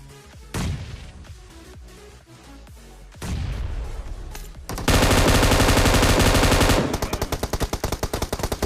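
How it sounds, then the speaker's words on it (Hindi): M249 machine gun fire in the PUBG video game comes as loud rapid bursts. A scattered opening leads into a dense sustained volley, then a fast rhythmic string of shots to the end. "मैं इस बंदे को नॉक कर देता हूँ और गाइज रिलोड करता हूँ मैं M249 को"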